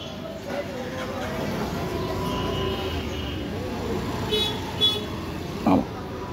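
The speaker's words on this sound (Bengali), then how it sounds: "খুব ব্যস্ত একটা মোড় এটা। এখানে অটো স্ট্যান্ডও আছে" A busy road junction with an auto-rickshaw stand fills with a continuous rumble of passing vehicles and faint voices, and two short horn toots sound near the end.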